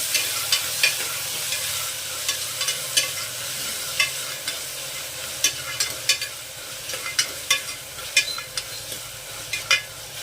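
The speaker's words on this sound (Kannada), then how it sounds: "ಈಗ ಒಂದು ಟೊಮೊಟೊವನ್ನು ಸೇರಿಸ್ಕೊಳ್ತಾ ಇದ್ದೀನಿ. ಇದನ್ನು ಅಷ್ಟೇ ಚೆನ್ನಾಗಿ ಫ್ರೈ ಮಾಡ್ಕೊಳ್ಬೇಕು." Tomato and onion frying together in a pan, with a steady sizzle broken by repeated scraping clicks of a spoon as the mixture is stirred, close up, with no talking.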